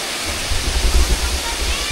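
Batlag Falls in Tanay, Rizal roars nearby as a steady, dense wash of falling water that runs unbroken throughout.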